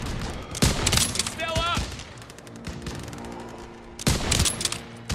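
Call of Duty: WWII battle gunfire rattles in bursts of rapid rifle and machine-gun shots, loud and close, with a lull in the middle and shouted voices mixed in.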